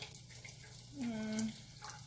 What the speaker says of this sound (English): So I'm just gonna put oil now.